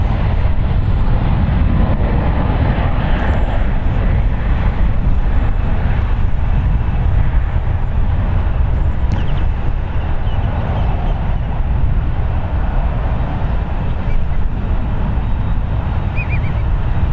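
A United airliner takes off at San Francisco International Airport, a loud continuous jet roar with a deep low rumble, steady and close, and no voices.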